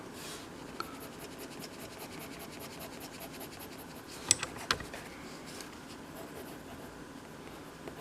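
A pencil sketches a dinosaur picture on paper with soft, continuous scratching strokes, quiet and close, broken by a couple of sharper taps.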